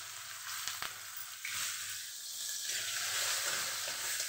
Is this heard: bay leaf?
yes